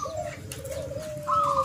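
A male or female zebra dove (perkutut) coos steadily and close by, a level droning call with a brighter rising note near the end, heard alone with no talk.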